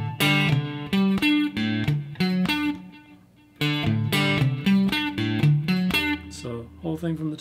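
Guitar arpeggios ring out over open strings in a guitar lesson, bright plucked notes in quick rhythmic bursts, loud and close, with a short pause midway and a low sustained note near the end.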